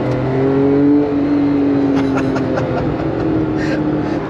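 A Porsche 911 with a custom exhaust revs hard close by, rising sharply to a held high-rpm note and then settling into a rough, burbling idle.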